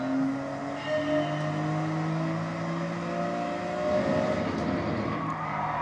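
A car drifting in Gran Turismo 7, engine droning and revving through consecutive corners with rising and falling pitch, tires squealing and skidding near the end.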